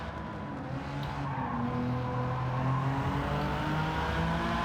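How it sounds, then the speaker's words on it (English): A race car engine in Gran Turismo 7 drones loudly and continuously, its pitch shifting as it revs through gears, with no talking. "Great sounding car."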